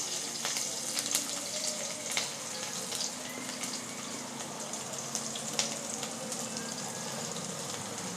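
Chopped ginger and garlic frying with capsicum in a pan for chicken chilli, a steady broadband sizzle with faint crackles, close and even throughout with no talking.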